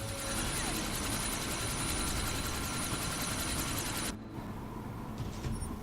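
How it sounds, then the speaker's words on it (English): Helicopter taking off in the video game Deus Ex Mankind Divided, a loud continuous rotor and engine roar that drops away suddenly near the end, heard without voices. "That chopper's about to take off."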